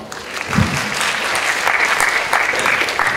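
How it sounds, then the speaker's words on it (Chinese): A university lecture audience in a hall claps for a speaker, a lively, fairly loud round of applause with individual sharp claps standing out and scattered voices underneath. "大家先给伯君一个掌声好不好？"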